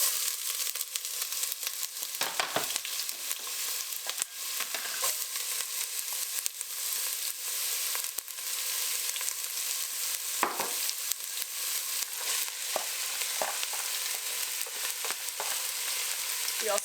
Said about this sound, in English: let me go ahead and get our onions into the skillet